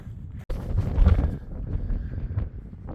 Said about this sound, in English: 80-mile-an-hour winds be damned